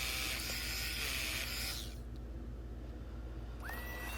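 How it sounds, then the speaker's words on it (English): A power drill bores into concrete to set an anchor, a loud steady grinding whine that cuts off partway, leaving quiet before a brief burst starts again near the end. "So now I'm drilling."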